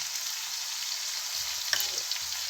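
Oil sizzles and crackles steadily in a pan as spices are tempered for saag, a continuous bright hiss with a few sharper pops near the end.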